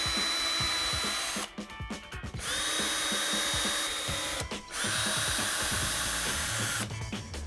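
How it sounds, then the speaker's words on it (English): A power drill whirs steadily into wood drilling a small pilot hole for a nail, in close, loud bursts, with short pauses between runs. "all I'm going to do is drill a small pilot hole in preparation for the nail"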